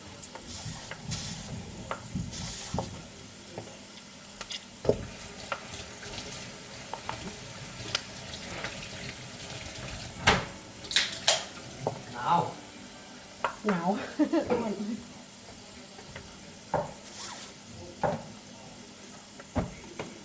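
Pork rinds (khaep mu) frying in oil, a soft, steady sizzle with scattered pops and spatters throughout, fairly faint and close by, with no talking.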